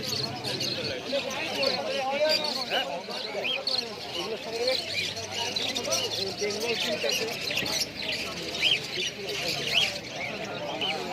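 Many small Java sparrows chatter and chirp in a busy, continuous chorus at a pet market in Kolkata, with people talking in the background throughout.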